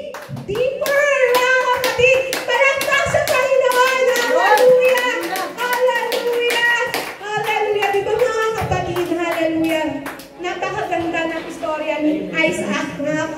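A congregation claps rhythmically in steady, close beats while singing and voices carry over the top, the clapping continuing throughout.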